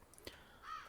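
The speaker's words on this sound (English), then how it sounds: "I'm almost certain that there could be a bird somewhere around here." A lone crow caws faintly in the ambient soundscape of the video game Black Mirror III, a short distant call rising briefly over quiet background.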